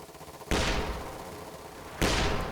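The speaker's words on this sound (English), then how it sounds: "And there's the barrage coming in." Two heavy artillery shell impacts slam into a position in Company of Heroes 2 on the Stalingrad map, each a loud sudden boom that rolls off into a long decaying rumble.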